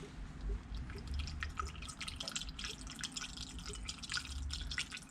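Coolant drips from the cooling system of a Renault Twingo 2 1.5 dCi while it is being bled. Quiet, irregular droplets patter close by over a faint background hum.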